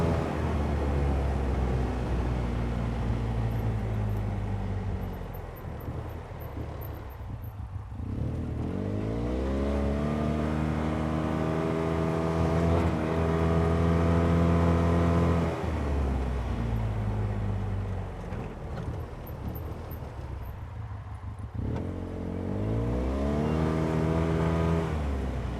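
An ATV or UTV rides a winter trail near Eagle River, Wisconsin, its engine droning close by and repeatedly climbing and dropping in pitch as the rider accelerates and eases off, loud and with no talking.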